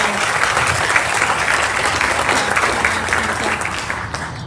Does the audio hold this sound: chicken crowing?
no